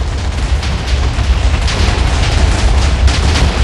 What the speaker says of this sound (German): Die Explosion ist schneller als ich.